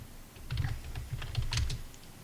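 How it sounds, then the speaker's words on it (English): Close computer keyboard typing in short uneven bursts of quick clicky keystrokes, with brief pauses between runs and no talking. "I can't really talk and type that well."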